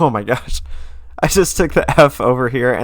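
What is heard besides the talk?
No everyday noise stands out behind the speech.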